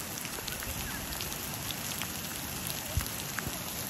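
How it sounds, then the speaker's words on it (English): Rain pouring down at Yellowstone's Upper Geyser Basin, a dense, steady patter of drops hitting the ground with a few sharper nearby splats, no talking. "It's during a pouring down, during a rain downpour."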